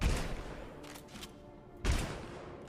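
Shotgun blasts in a video game, two sharp booming shots about two seconds apart with fading tails between, moderately loud.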